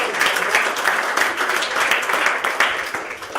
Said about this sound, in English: Someone give Jesus a clap.